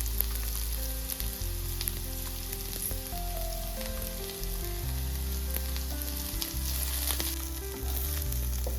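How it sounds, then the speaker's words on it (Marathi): Onion frying in a pan with green chili, curry leaves and garlic for Maharashtrian stuffed brinjal masala, a steady, close sizzle running throughout with occasional stirring, no speech. "कांदा आपला भाजत आलाय."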